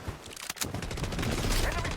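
Heavy video game gunfire rattles in dense, continuous bursts, a few sharp shots at first and then a sustained loud barrage filling the whole moment.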